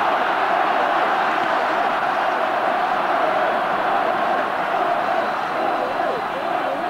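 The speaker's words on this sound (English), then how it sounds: "Once again, the fans rallying and cheering both sides" A large stadium crowd roars throughout an All-Ireland hurling final between Cork and Galway, a dense, steady wash of cheering and shouting from thousands of fans that stays loud and continuous from start to finish.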